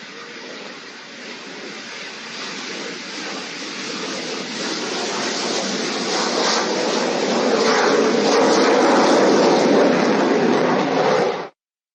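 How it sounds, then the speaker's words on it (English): An intermediate jet trainer aircraft takes off at the Aero India 2025 air show, its broad roaring jet noise steadily swelling louder over about eleven seconds before cutting off abruptly. "Following the HTT-40 takeoff will be the takeoff of the intermediate jet"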